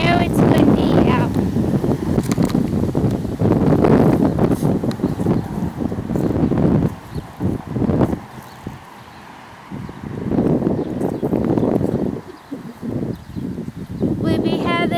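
Wind blows steadily across an open cemetery, buffeting the microphone with loud rumbling gusts that ease briefly midway before returning.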